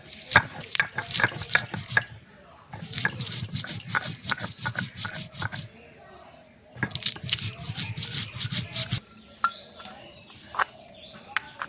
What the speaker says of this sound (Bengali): এখানে কটা কাঁচা লঙ্কা আদা জিরে বেটে নেব